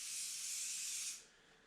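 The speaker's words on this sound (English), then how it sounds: "you don't want to spray and hold the trigger all the time" A spray gun sprays car paint on a crash-damaged Camaro in a short, close hiss lasting about a second before the trigger is released and the sound drops to quiet.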